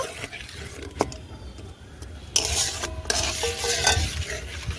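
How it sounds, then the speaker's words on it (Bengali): Milk poured little by little into hot caramel in a pan and stirred over the heat for malai ice cream, with a loud hissing sizzle surging up and a spoon scraping and clinking against the pan. "এই ক্যারামেলের মধ্যে অল্প অল্প করে দুধ দিয়ে দেবো আর হালকা হালকা করে জাল দিয়ে নেব"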